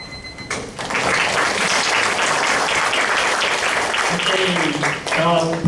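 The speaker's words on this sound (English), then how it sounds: "Please give a big applause again for the both affirmative and negative" Loud, sustained applause from an audience at a school English exchange debate contest, clapping steadily for the affirmative and negative teams for several seconds after a brief quiet start.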